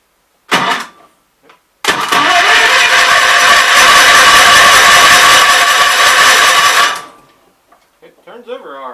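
A Kohler K241 engine clamped and bolted to a bench cranks over for about five seconds in a loud, steady, close whirr, preceded by a short burst and followed by faint speech.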